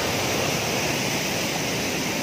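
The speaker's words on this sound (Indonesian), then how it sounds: "ini aliran airnya dari aliran sungai Cilengsi, Kali Cilengsi" Water at Curug Parigi waterfall on the Cilengsi river in Bantar Gebang, Bekasi, roars in a steady, loud, broadband rush that fills the whole stretch without a break.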